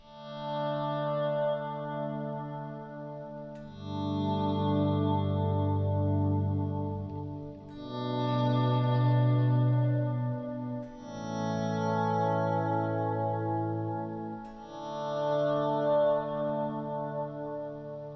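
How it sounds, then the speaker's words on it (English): Slow guitar volume swells fade in softly one after another through a Flux Effects Liquid Ambience reverb pedal, each blooming into a wash of shimmering reverb before the next rises. "And now for some volume swells."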